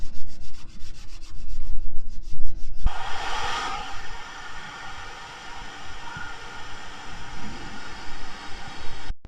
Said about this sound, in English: The best way to get them off is to just literally use a sponge and go at it